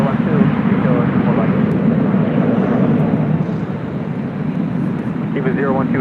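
A Boeing 747 taxis along a taxiway at LAX, heard as a steady, loud low engine rumble and roar throughout, with faint radio chatter over it.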